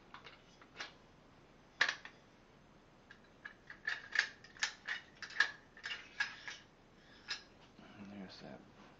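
A rifle is opened up for a CMMG .22 LR conversion kit, with a series of sharp metallic clicks, snaps and ratcheting mechanism sounds close by, irregularly spaced, while someone speaks faintly at times.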